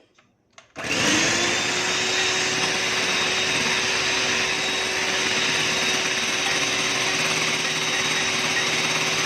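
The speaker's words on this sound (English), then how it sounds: "at this stage, we will start our whisk and we'll keep adding sugar little by little till we reach stiff peak" Electric whisk whipping aquafaba with sugar toward stiff peaks for a vegan vanilla cake, starting after a brief click and then running as a loud, steady high-pitched motor whir throughout.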